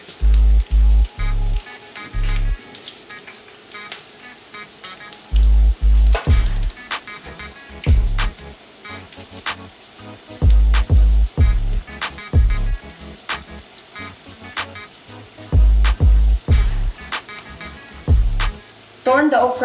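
Okra frying in very hot oil, a steady crackling sizzle heard close and continuous, with bursts of heavy low-end noise and talking over it.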